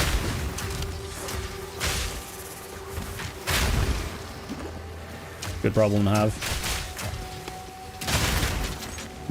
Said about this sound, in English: I'm already like doing so many explosions